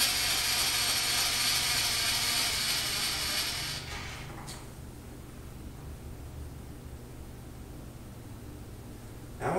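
A rotary table on a milling setup is cranked back to zero, giving a steady ratcheting, gear-driven mechanical whir that drops off partway through, leaving quieter background hum and a faint click.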